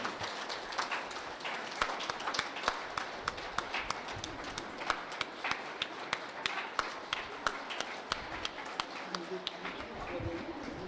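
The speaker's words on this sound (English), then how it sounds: "a big applause for my technical committee" Sparse, scattered clapping from an audience at an international conference on inter-religious understanding, individual claps standing out in an irregular patter at a faint level, with talking heard throughout.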